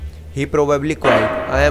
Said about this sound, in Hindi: ये कुत्ता भौंक रहा है।